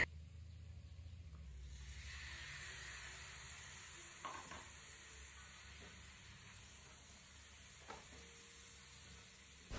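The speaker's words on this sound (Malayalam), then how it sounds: "2 തക്കാളി അരിഞ്ഞാണ് ചേർക്കണത്." Chopped tomatoes sizzle and hiss as they fry in a pan for Kerala-style beef curry, a soft steady frying sound with a few faint stirring knocks and no talking.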